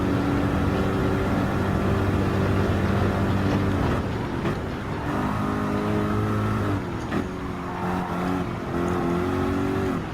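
Racing car engine in Gran Turismo 7 during a Manufacturers Cup race at the Nürburgring, a steady loud drone with shifting pitch as the car accelerates and changes gear, continuous throughout with no talk.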